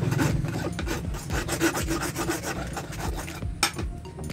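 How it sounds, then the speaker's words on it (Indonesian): A steel needle for stitching shoe soles is rasped with an iron hand file, giving repeated scraping strokes in a steady back-and-forth rhythm, close and fairly loud, with one sharper stroke near the end and no talking. "Kita perbaiki lagi dengan kikir besi seperti ini"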